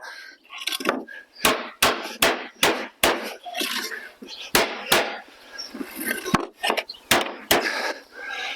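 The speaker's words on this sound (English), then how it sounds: "And I'm just hitting this old bit of timber instead" A hammer strikes an old timber block again and again in sharp, loud whacks at an uneven steady pace, close by, with faint rustling between blows.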